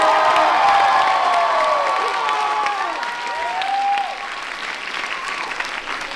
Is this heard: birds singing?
no